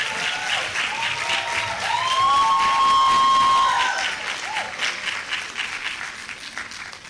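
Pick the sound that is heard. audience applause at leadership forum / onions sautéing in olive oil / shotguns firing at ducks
audience applause at leadership forum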